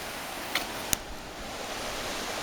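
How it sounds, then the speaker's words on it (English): A creek flowing under a bridge on a wilderness trail, a steady broad rush of water filling the whole clip, with a couple of brief sharp clicks or snaps near the start. "A bridge over the creek. I'll show you the creek there."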